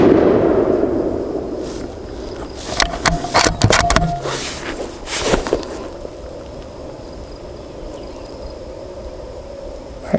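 Rifle shots from a Savage 12FV firing Hornady 178g ELD-X loads at a range, a few sharp cracks clustered in the middle over a steady outdoor hiss, moderately distant and without talk.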